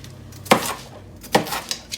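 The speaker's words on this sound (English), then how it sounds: "And then we're gonna toss them into the bowl back here." Cut bite-sized food chunks land in a bowl during summer cookout prep, two distinct clattering thuds about a second apart with a lighter clink after, close by and with no talking.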